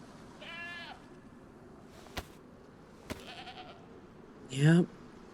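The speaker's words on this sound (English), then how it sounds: "Goat." A goat bleating in the video game DayZ: a brief wavering bleat early, then a louder, closer bleat at the end, with a couple of sharp clicks between, over low background noise.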